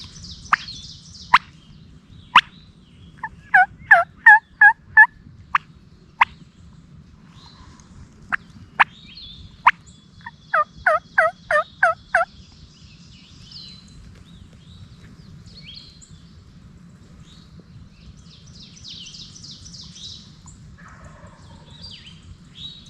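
Distant wild turkey gobbler gobbles ring out in several rattling bursts during a Pennsylvania spring hunt, with scattered bird calls and sharp clicks over a quiet outdoor background.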